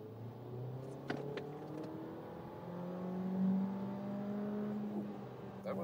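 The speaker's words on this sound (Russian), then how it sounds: "Это был разгон с 40 до 80 в горку." A 2026 Volkswagen T-Roc R-Line in sport mode accelerates uphill from 40 to 80 km/h, its engine note climbing steadily through the gears with a rising hum and a brief gear-change dip, heard from inside the car.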